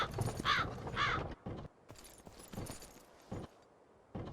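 Crow cawing in the survival game Myth of the Empires: two harsh, close caws in quick succession, followed by scattered clicks and knocks of other game sounds.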